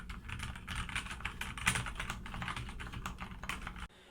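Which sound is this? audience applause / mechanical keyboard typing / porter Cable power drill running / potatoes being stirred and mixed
mechanical keyboard typing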